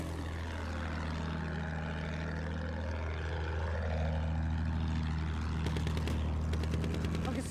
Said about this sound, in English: I can see a plane.